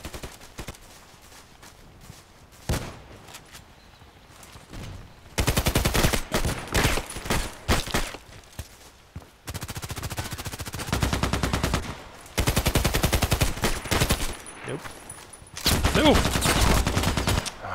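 Loud, close bursts of automatic gunfire from the online shooter Contract Wars come in long sustained volleys, broken by a few single shots and short quiet gaps.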